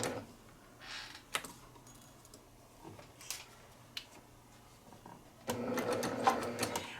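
An embroidery machine stitches a Santa table runner, a quiet steady whir with sparse clicks, growing busier and louder toward the end; no one speaks.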